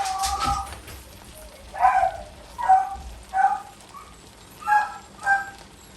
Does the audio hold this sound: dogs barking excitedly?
yes